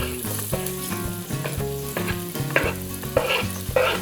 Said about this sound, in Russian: Буквально пару секунд обжариваем чесночок, чтобы он отдал свой запах.